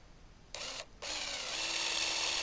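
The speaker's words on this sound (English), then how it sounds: "Just go to it and drill these holes out." A power drill bores holes through an old broken slat from a pop-up shelter, starting with a short burst, pausing briefly, then running steadily and close for a couple of seconds.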